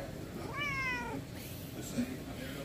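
A single cat meows once, a clear rising-falling cry heard outdoors near a parked Jeep, set against steady background hum with faint voices.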